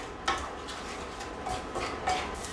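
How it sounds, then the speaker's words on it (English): Sautéing onions and garlic are scraped off the bottom of a pan with a utensil, making soft metallic scrapes and light clinks over a gentle sizzle, fairly quiet and irregular. "The key when sauteing these onions and garlic is to really scrape up whatever's on the bottom of that pan."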